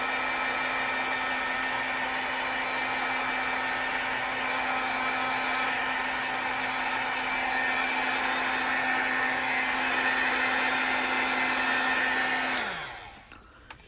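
A handheld heat tool blows steadily for about twelve seconds, drying hybrid ink on a craft project, with a constant whirring hum that abruptly shuts off near the end.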